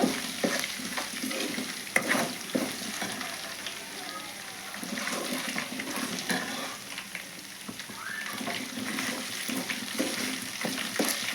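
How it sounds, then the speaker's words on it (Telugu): Chopped onions drop into ginger paste already frying in a pan for an egg curry, giving a steady close sizzle with scraping stirs and clatter throughout, no voices. "నేను ఉల్లిగడ్డ ముక్కలు అయితే వేస్తున్నాను"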